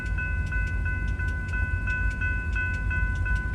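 A Norfolk & Western locomotive train approaches a road crossing at Bean Road as the gates come down. A steady, rhythmic crossing bell rings over a low rumble of rail traffic at moderate distance.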